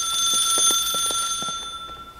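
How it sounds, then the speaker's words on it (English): A telephone rings in The Suicide of Rachel Foster, a loud, close electronic ring with a bright, steady tone that pulses rapidly and then fades slightly toward the end, with no talking. "Oh, sounds like somebody's calling. Where's the phone?"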